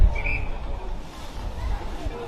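A sharp umpire's whistle blast rings out early at an amateur Australian football match in the Adelaide Footy League, over a bed of crowd babble and field noise.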